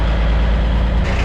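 An M923 5-ton military truck rolls onto a scale with a loud, close engine rumble and a deep, steady drone, with no pauses across the short stretch.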